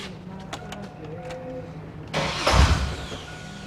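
A Chevy Blazer/S10 truck engine with a newly installed lower fan shroud cranks and catches around the midpoint, settling into a steady idle after a quieter stretch with faint background noise.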